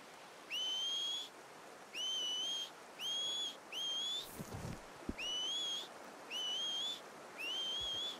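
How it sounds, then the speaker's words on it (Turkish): In the video game Red Dead Redemption 2, a player whistles to call a horse: seven short, identical rising whistles repeat at a steady rhythm, clear and fairly loud, with a brief rustle and thump near the middle. "Ata ıslık çaldık."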